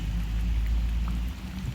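Rain falls steadily at night during cast-net fishing, a constant low hiss and patter with a deep background rumble and no talking.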